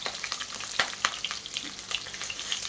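Green and dried red chillies sizzle in hot oil for raw mango pulihora, a close, crackling fry with light stirring taps and no talking.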